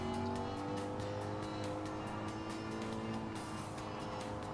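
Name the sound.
car engine noise in Gran Turismo 7 video game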